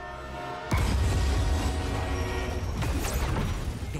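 A runaway train in Marvel's Spider-Man 2 roaring along with no brakes, a loud, dense rumble and clatter that bursts in suddenly and stays heavy, with a sharp screeching sweep near the end.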